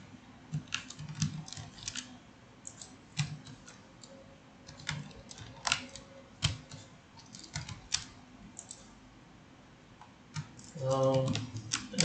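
Computer keyboard keys click in irregular bursts of typing and single presses during 3D modelling work, close and fairly quiet, with a short murmur of speech near the end.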